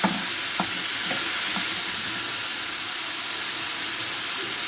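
Peeled, lightly boiled jackfruit seeds fry gently in hot oil in a pan, giving a steady, close, continuous sizzle with a few soft stirring knocks near the start.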